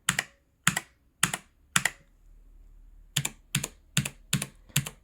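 An Aukey KM-G12 mechanical keyboard with blue switches and metal construction is typed on in two bursts of crisp, evenly spaced clicky keystrokes, four then six, with a short quiet pause between. The strikes sound close and distinct with a faint ring.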